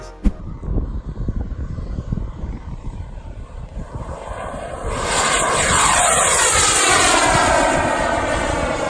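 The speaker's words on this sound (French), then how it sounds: "rien d'autre qu'un réacteur d'avion de chasse MiG-15" A MiG-15 fighter jet engine mounted on a tractor roars steadily, rising into a louder, whining rush of air partway through, close and loud with no voices.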